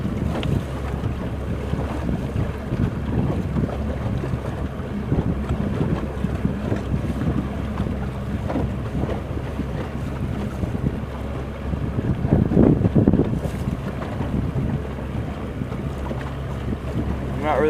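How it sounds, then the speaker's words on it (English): A boat motor runs steadily while cruising and scouting a lake, a continuous low drone with wind buffeting the microphone and water noise around it. "I'll cruise through an area before I fish it, or if I'm scouting a lake, I'm just running the motor"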